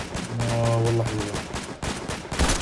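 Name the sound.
gunfire from a shooter video game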